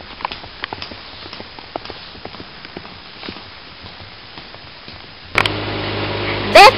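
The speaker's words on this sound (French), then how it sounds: "ça c'est du galop!" Hooves of a galloping horse clip-clop in a quick, steady rhythm at moderate distance, then a louder, rougher burst of noise swells near the end as the footfalls continue.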